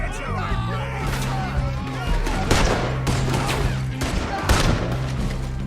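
Rapid gunfire in a Red Dead Redemption 2 shootout crackles in dense, overlapping volleys with heavy thumps, mixed with shouting voices throughout.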